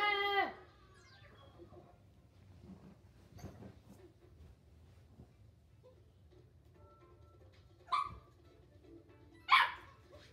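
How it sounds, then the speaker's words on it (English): A pet dog barks in a few sharp bursts, first at the start and again near the end, over a quiet indoor background with faint murmuring between the barks. "Sorry, that's just my dog."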